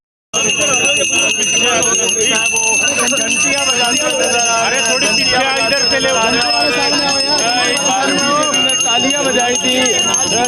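Bells rung continuously by Youth Congress protesters during a street campaign rally, a loud sustained metallic clanging with crowd voices underneath.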